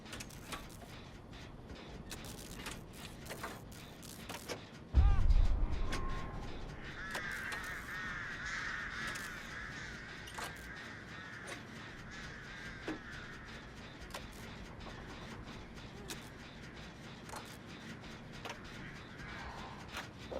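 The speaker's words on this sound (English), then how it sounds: "there's two ways to get rid of the crows" Crows cawing in the horror video game Dead by Daylight, repeated harsh caws over a quiet game backdrop, with a brief loud thump near the start and faint scattered clicks.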